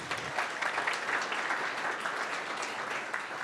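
Audience applause at a startup demo day, a steady wash of many hands clapping at moderate distance that carries on evenly for a few seconds with no talk over it.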